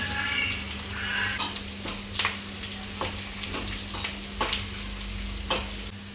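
Fried onion sizzles steadily in a pot for vegetable biryani, with periodic scraping stir strokes and a constant low hum underneath, fairly close and moderately loud.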